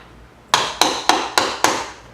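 Five sharp metallic hammer strikes on a scraper prying up asbestos floor tiles, at a steady rhythm, each ringing briefly, close by and loud against a quiet room.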